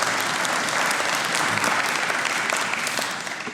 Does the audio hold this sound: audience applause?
yes